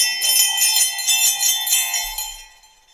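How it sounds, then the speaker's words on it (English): Handmade sleigh bells jingle brightly and continuously in rapid shaking bursts, close and loud, then ring out and fade at the end. "I also brought some bells that he makes called sleigh bells"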